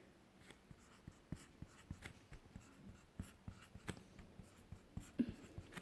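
Marker or chalk writing fractions on a classroom board during a CM2 maths lesson: short scratchy strokes in irregular bursts, close and fairly quiet, with no talk.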